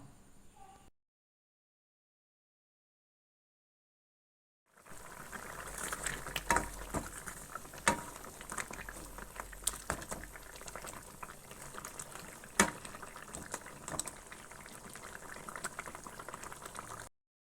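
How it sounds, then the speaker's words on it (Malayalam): Fish curry bubbles steadily in a pot, a continuous close simmering patter with occasional louder pops, starting after several seconds of silence. "മീനൊക്കെ നല്ലപോലെ തിളച്ച് വേവാനായിട്ടുണ്ട്"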